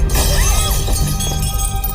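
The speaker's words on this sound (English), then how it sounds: "a piece of glass fell from the sky" Glass shatters in a dramatic scene, a loud, bright burst of breaking glass over a dense, continuous dramatic background soundtrack.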